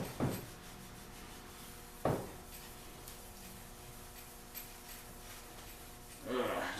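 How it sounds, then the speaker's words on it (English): Abrasive pad scuffing the painted roll cage of a Jeep Wrangler to knock off its shine, with a few short rubbing strokes at the start and end and a quieter pass in the middle over steady low background hum. "Just want to scuff it up."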